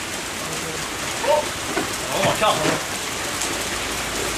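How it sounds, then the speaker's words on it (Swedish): Heavy hail pours down outdoors in Stockholm as a constant loud, dense hiss of impacts throughout, while a person speaks briefly over it. "Alltså det haglar."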